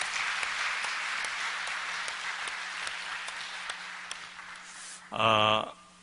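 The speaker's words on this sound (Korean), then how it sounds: "우리 다 같이 박수 한번 하겠습니다" A church congregation at a Sunday service claps together, a steady wash of applause that tapers off, followed by a short burst of voice or music near the end.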